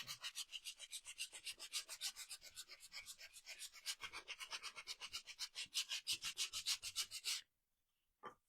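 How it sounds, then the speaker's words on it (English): Small scrap wood slats are sanded by hand in quick, rhythmic rubbing strokes, close and steady for about seven seconds before stopping, with one last short scrape at the end. "So all my little slats are sanded now."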